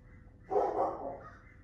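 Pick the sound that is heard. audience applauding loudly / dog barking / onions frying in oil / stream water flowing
dog barking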